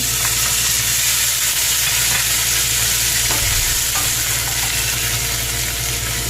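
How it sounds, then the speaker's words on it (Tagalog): Chopped onion fries in hot oil for lasagna, a loud, close, continuous sizzle with faint stirring scrapes underneath and no voices. "Oil. We put the onion."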